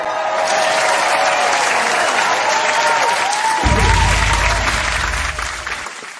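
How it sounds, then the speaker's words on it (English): An added applause sound effect with crowd noise plays throughout, a continuous wash of many hands clapping, joined midway by a deep low rumble that fades before the end. "You like how I added our own applause sound effects with the crowd to make it sound more right."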